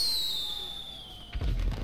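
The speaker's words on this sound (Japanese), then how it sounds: "すげえ花火なんかあんだ" A firework in the video game GTA5 whistles with a falling pitch, then bursts with a low, loud boom near the end.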